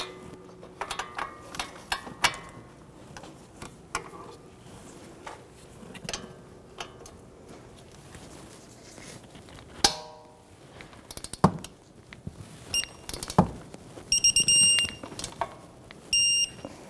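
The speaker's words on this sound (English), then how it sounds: "So let's go ahead and torque them to 74 foot-pounds." A torque wrench tightens the front strut bolts on a 2015-2024 Jeep Renegade to 74 foot-pounds, giving scattered sharp ratcheting clicks and metallic taps with short quiet gaps between them.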